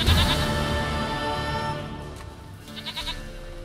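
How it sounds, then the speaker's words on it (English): A goat in The Witcher 3: Wild Hunt gives a drawn-out wavering bleat near the start, then fades into quiet game ambience with a few soft later sounds. "Goat of mine, dearest, sweetest goat."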